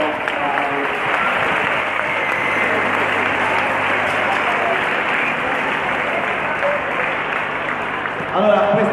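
Steady, dense applause from a crowd fills a sports hall at a youth volleyball championship awards ceremony in Rimini, continuous and fairly loud throughout before a slight swell near the end.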